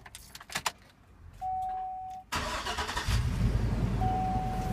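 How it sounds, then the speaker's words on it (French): A car engine cranks and fires after an exhaust manifold repair, following a clink of keys and a short electronic tone, then settles into a close, steady idle hum with a faint whine. "on va mettre le moteur en route, histoire de vérifier tout ça"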